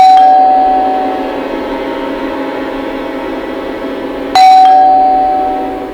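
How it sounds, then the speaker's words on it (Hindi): Electronic doorbell at a house door in a crime drama. It gives two loud, clear ding-dong chimes about four seconds apart, each ringing out and slowly fading in a quiet room with no speech. "तभी दरवाजे पर घंटी बजी।"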